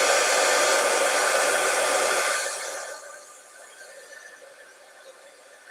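A heat tool blows hard and steady for about two and a half seconds while warming embossing powder, then its roar drops to a quieter whine as it winds down, with no voices.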